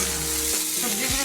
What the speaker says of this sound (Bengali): সবজিগুলি ভাজা ভাজা হয়েছে